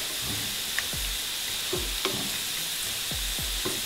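Beets sizzle steadily in a pan with apple juice while a utensil scrapes and stirs in short, repeated strokes, close and fairly quiet.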